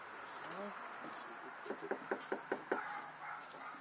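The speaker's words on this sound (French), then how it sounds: "Oh, il y a un chien." A dog barking from inside a house on a residential street, a run of about six sharp, evenly spaced barks at moderate distance, with faint voices and outdoor ambience around them.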